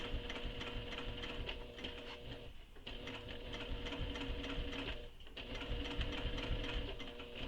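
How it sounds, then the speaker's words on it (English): A sewing machine stitches slowly around the curved seams of a fabric bag, running steadily and close with two short pauses as the work is turned, with no talking. "I go ahead and start stitching. Again, take your time going around these curves."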